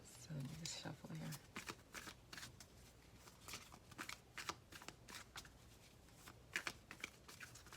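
Tarot cards are shuffled by hand in a series of quick, crisp riffling bursts and soft slaps, close and quiet, with a faint voice briefly at the start.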